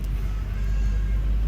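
Steady low rumble inside a car waiting for passengers in Jakarta in the evening, a constant engine and road drone with no voices or distinct events.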